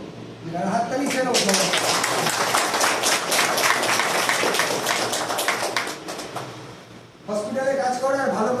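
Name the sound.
audience applauding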